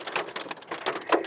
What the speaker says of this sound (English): These are dime-sized pieces of hail.